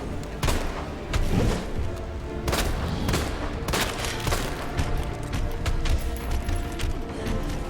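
Rapid gunfire from a handgun in the Resident Evil 2 zombie game, with several loud sharp shots in quick bursts and scattered single cracks over a steady background rumble, no talking.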